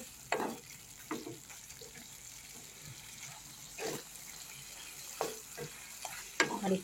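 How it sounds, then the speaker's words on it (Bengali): Capsicum and tomato stir-fried with spice paste in a pan for a chhana bora dalna curry: a low sizzle under repeated, irregular scraping stirs, with no talk. "তো দেখো, মশলাটা কষানোর পর আমি ক্যাপসিকাম আর টমেটোটা দিয়ে ভালো করে কষিয়ে নেব।"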